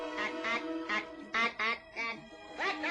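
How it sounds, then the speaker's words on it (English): The Martian alien language from the 1996 film Mars Attacks!: a string of short, nasal, duck-like squawking syllables in about eight choppy bursts, delivered close and clear. "An alien in a metallic robe with a giant bulbous head begins talking in an alien language, which sounds something like this."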